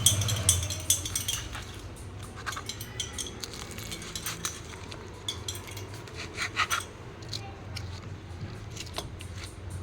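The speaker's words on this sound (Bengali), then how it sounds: "এভাবে একটা ছুরি দিয়ে কেটে নেব ছোট ছোট পিস করে।" A knife scrapes and taps against a plate, slicing a homemade egg Mughlai paratha into small pieces, with a series of short, close raspy cuts and clinks repeating at an irregular rhythm.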